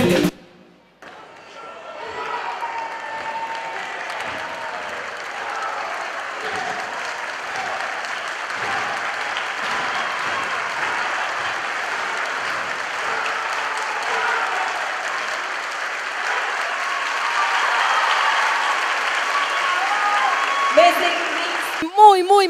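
An audience breaks into sustained applause for a performing group at a variety show, a dense, steady wall of clapping that rises after a brief pause and carries on for the full stretch, with a few louder claps near the end.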